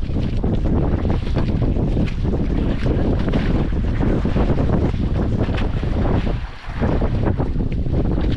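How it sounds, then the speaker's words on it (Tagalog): Strong wind roars steadily and loudly across the microphone, with rushing water beneath it and no voices. "Grabing hangin ay"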